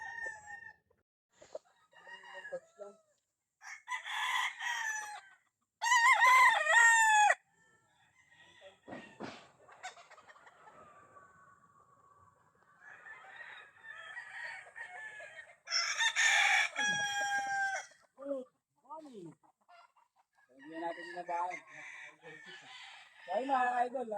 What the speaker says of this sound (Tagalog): At ipapakita ko sa inyo yung mga manok nila.